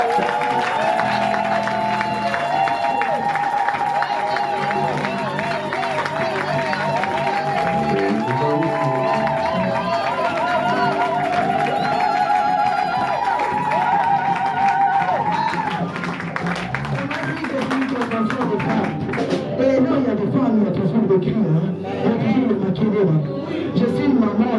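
Church congregation at a Sunday service cheering and acclaiming, a crowd of many voices shouting and calling together with scattered clapping, continuous and loud throughout.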